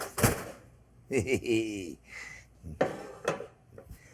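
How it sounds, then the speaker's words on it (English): Metal baking pans of cheese-stuffed manicotti clank and scrape as they slide into a kitchen oven, followed by the thud of the oven door closing, with someone talking between the sharp knocks. "I'm going to put them in the oven."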